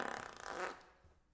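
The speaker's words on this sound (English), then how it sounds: "I have some fart sound effects actually." A short, fluttering fart sound effect with a rapid buzzing burst that swells and then trails off, fairly faint and heard alone.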